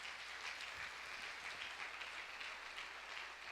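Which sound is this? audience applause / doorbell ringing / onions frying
audience applause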